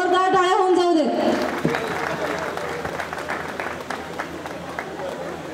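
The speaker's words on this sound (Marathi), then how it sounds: "सर्वांनी टाळ्या वाजवून दाद द्यायची आहे कार्यक्रमाला. जोरदार टाळ्या होऊन जाऊ दे." Strong, sustained applause from a school reunion audience at Gadhinglaj High School fills the hall, dense and close, after a voice briefly speaks at the start.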